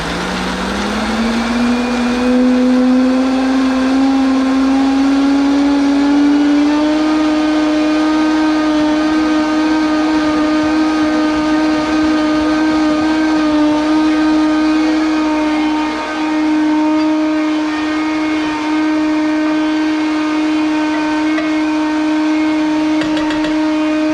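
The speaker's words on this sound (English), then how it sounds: "get our lid on here and just blend until completely smooth" A blender runs steadily for about twenty seconds, puréeing mushroom alfredo sauce until smooth. The motor whine climbs to a constant high pitch, loud and close, with no one talking.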